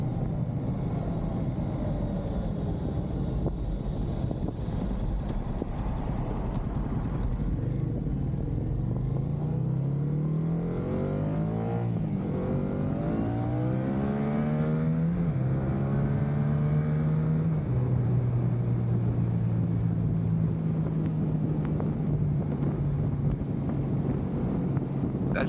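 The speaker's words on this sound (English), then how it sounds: "That shift into third is so abrupt." A motorcycle accelerates and shifts up into third gear, its engine note rising in pitch between changes, heard close under steady, heavy wind rush with no talking.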